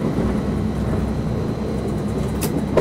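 A train passes along a railway line at Hussein Dey in Algiers, a steady, loud broadband rumble and roar filling the whole stretch, with a brief sharper burst near the end.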